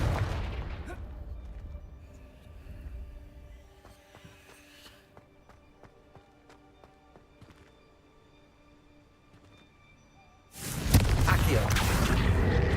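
A Confringo fire spell explodes in Hogwarts Legacy: a sudden, loud, broadband blast near the end that booms on steadily, following quieter in-game ambience with faint clicks and chimes.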